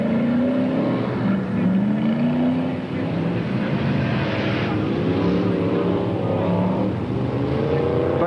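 BriSCA Formula 1 stock cars race around a 350-metre oval circuit in 1982, engines droning and rising and falling in pitch as they pass, with a commentator talking over the steady racing noise.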